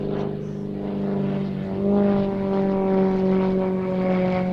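A Krill-built model aircraft, just under 3 metres long with a 3-metre wingspan, holds a steady propeller engine drone at 30 to 50% throttle at Little Gransden Airshow, loud and sustained with a slight rise in pitch midway.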